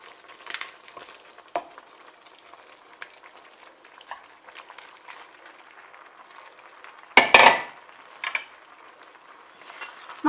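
Cooked pasta being stirred together with sauce in a pan, soft wet scraping and squelching strokes at a quiet level, with one louder clatter of utensil against the pan near the middle.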